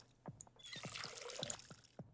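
Water poured onto a plant in the video game Schedule 1, a splashing trickle lasting a couple of seconds with soft clicks and taps around it.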